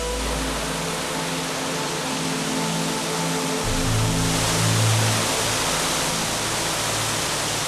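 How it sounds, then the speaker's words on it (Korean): Aicha waterfall in Canaima, Venezuela, a wide, full-flowing fall, roars as a dense, continuous rush of water with a deep rumble swelling partway through. "카나이마를 대표하는 폭포는 도끼라는 뜻을 가진 아차 폭포입니다."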